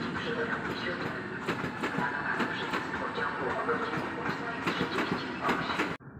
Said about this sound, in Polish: Wjeżdża pociąg Intercity Parsenta relacji Łódź Fabryczna, Kołobrzeg.